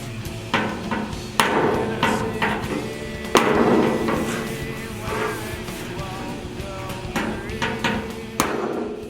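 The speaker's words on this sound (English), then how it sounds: "I'm hammering the holes back flush before welding them." A ball peen hammer beats holes in a steel car fender back flush before welding, a steady series of sharp metallic blows, near and fairly loud, repeating through the clip with a ringing resonance.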